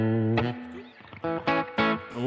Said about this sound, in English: Hear the reverb going on the headphones.